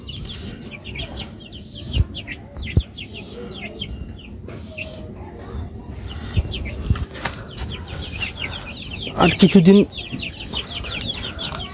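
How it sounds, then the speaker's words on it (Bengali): Young chicks of a tiger chicken breed cluck and chirp repeatedly in a backyard, soft scattered calls at moderate distance, with occasional clatter and a brief burst of louder clucking or flapping near the end, a voice speaking briefly. "কিছুদিন আগে আমি এগুলো মুরগি আনছি, টাইগার মুরগির বাচ্চা"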